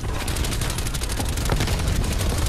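Rapid automatic gunfire from Black Ops Cold War on the Nuketown '84 map, dense and continuous bursts filling the moment, loud and close with no talk.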